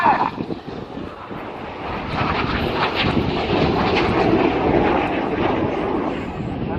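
Red Arrows synchro pair jets fly their display at the Bournemouth Air Festival, a loud, steady engine roar building and holding overhead, roughened by wind buffeting on the microphone.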